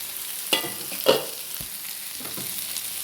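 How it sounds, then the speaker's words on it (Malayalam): Onion and tomato sauté in a pan as filling for stuffed squid, with a few soft stirring scrapes and a low frying sizzle in a quiet kitchen, no talking. "അത്യാവശ്യം വഴന്ന് വന്നിട്ടുണ്ട് തക്കാളി അതേമാതിരി വഴന്ന് വന്നിട്ടുണ്ട്"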